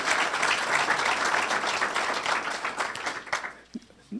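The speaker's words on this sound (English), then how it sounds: "you should give yourselves a round of applause for that" Audience applause at a formal civic program on African Americans and the vote, a dense sustained wash of many hands clapping that thins and fades out near the end, with a few last scattered claps.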